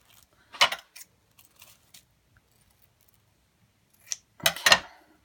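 Scissors cutting crepe paper in two clusters of close, sharp snips separated by a stretch of near silence.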